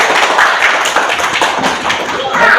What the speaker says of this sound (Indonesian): Tepuk tangan lah kita semua